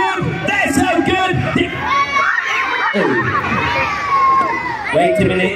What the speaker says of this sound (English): I don't think people were shouting loud enough!